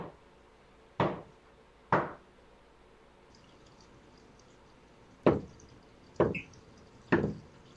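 Knocking on a door in a scary scene: two sharp knocks, a pause, then three more, moderately loud and close, with no talking.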